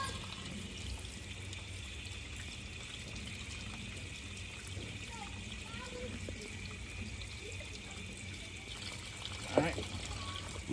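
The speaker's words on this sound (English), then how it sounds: "Just running some rainwater over it" Rainwater trickles quietly over freshly dug ginger, a faint steady dribble with a brief louder splash near the end.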